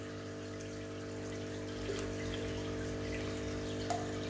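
Water running from a pipe into a planted fish tank, a steady continuous rushing flow over a constant hum, with a couple of faint splashes.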